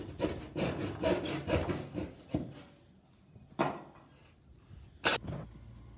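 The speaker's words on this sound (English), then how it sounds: "you have to hand saw them out" A hand saw cuts through a wooden stair stringer in a quick run of rasping strokes, then slows to a few separate pulls with pauses between them, near and fairly loud.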